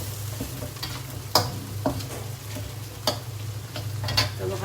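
Beef frying in oil in a pan, a continuous close sizzle broken by several sharp clinks and scrapes of stirring.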